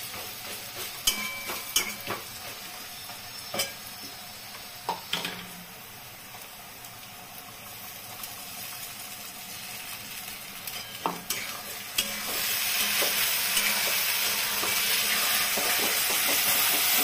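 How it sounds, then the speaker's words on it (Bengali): Coarse poppy seed paste fried with onions and Kashmiri chili powder, no water added, stirred hard in a pan: a continuous close sizzle broken by scraping spoon strokes, swelling into a louder, steadier hiss toward the end, with no voices. "পোস্ত বাটাটা দিয়ে খুব নাড়তে হবে"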